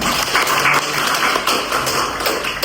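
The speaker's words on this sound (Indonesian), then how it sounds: "beri aplaus buat teman Anda" A university lecture audience claps for a student's question, dense overlapping hand claps with sharp taps running steadily and fairly loud throughout.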